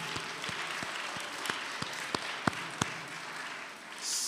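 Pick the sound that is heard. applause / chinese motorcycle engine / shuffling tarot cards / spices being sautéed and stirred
applause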